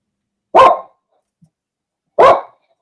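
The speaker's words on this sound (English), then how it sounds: "it was just perfectly as the dog barked" A dog barks twice, each bark a single loud, close, sharp woof, separated by about a second and a half of near silence.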